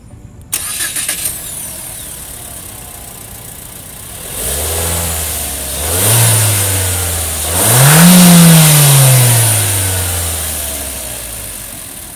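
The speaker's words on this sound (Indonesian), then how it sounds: "kayak apa sih suara mesin 1500 cc turbonya? Yuk kita start up dulu." A Mitsubishi Eclipse Cross 1500 cc turbo engine cranks and catches, settles into a steady idle, then revs up twice with rising and falling pitch, loud and close.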